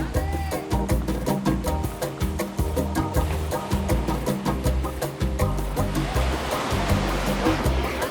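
Surf rolling onto a secluded private beach in southwestern Puerto Rico, a steady rushing wash of breaking waves close by, continuous and fairly loud with no voices.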